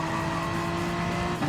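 Race cars in Gran Turismo 7, a Honda NSX and a Toyota Supra among them, roar with a steady high engine tone and faint tire noise in an unbroken engine drone.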